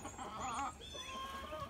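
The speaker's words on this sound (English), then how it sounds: "They're with all my hens and one rooster" Hens and a single rooster cluck close by in a chicken coop shared with goats, with short overlapping clucks and a higher drawn-out call, fairly quiet with no talk.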